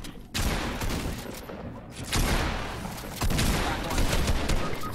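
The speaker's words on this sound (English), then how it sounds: "we're getting shot" Fortnite gunfire during a duos match: loud, dense bursts of rapid shots and blasts in three or four waves filling the whole stretch, close and harsh.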